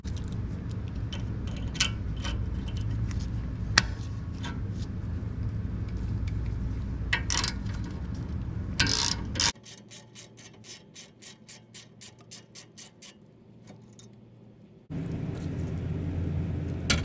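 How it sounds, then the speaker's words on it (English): Brake caliper bolt being removed during a rear brake pad change while pliers hold the spinning nut: a steady mechanical whir with ratcheting, then a rapid even series of clicks, then the whir returns, all close up. "I'm going to use like these pliers just to hold it in position to be able to remove the bolt."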